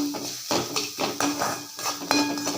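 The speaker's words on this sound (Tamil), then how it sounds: "மல்லித்தலை புதினா இப்போ இதெல்லாம் நல்லா வதக்கிடலாம்" Coriander, mint and vegetables being sautéed in a pan, heard as repeated metallic scrapes and clinks of a spoon against the pan in an irregular stirring rhythm, close and moderately loud with no talking.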